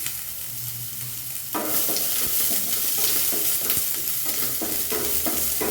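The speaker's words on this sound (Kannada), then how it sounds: "ಒಂದು 2 ನಿಮಿಷ ಚೆನ್ನಾಗಿ ಫ್ರೈ ಆಗಬೇಕು." Onions frying in oil for eggplant curry, a quieter hiss that jumps to a louder, fuller sizzle as they hit the pan, followed by repeated stirring scrapes up close.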